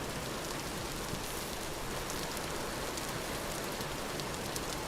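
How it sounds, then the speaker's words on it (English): Steady rain outdoors, a dense continuous hiss of drops striking surfaces with faint individual taps, even and unbroken throughout, no voices. "You can slightly hear the sounds of the water drops hitting"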